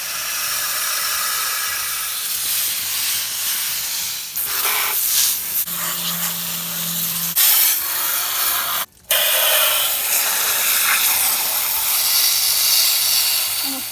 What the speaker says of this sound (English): Using a garden hose, just spray everything.